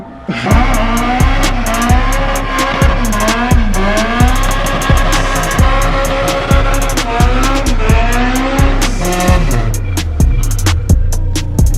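Honda Civic EG hatchback driven hard, a loud close engine revving up and down through repeated gear changes with rough rhythmic pulses, sustained for the whole stretch.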